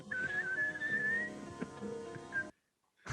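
A person whistles a sliding, wavering high tune for about two and a half seconds with faint room noise beneath, then a pause and a brief short whistle at the end.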